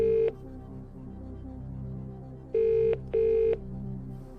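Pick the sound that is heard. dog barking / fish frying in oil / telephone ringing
telephone ringing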